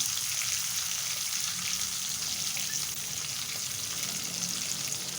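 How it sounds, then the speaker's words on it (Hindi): Garlic and spice-stuffed chillies frying in a pan, a steady dense sizzle that holds constant and fairly loud throughout, with no voices over it. "हम ये मिर्चें शामिल कर देंगे जो हमने मसाला भर के रखी हुई थी और इन्हें भी हल्का सा फ्राई करेंगे।"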